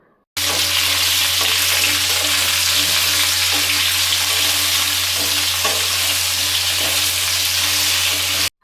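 Potatoes frying in a pan with softened onion and capsicum for a hotel-style aloo fry, a steady loud sizzle running throughout with occasional stirring scrapes and clinks, no talking.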